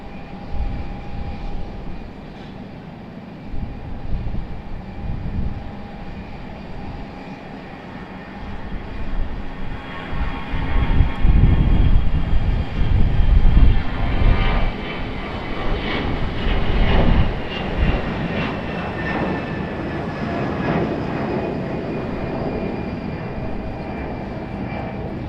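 Airliner taking off steeply from Raleigh-Durham International Airport, heard from outside as a building jet roar that peaks in the middle and then holds steady, loud and continuous with no talk.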